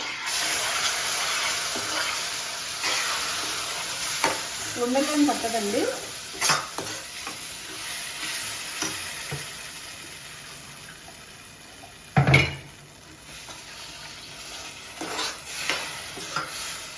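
Semolina roasted in ghee for rava kesari is stirred as hot water is poured in, giving a steady hissing sizzle with scraping, a few sharp splashes and clatters, and brief talk in between.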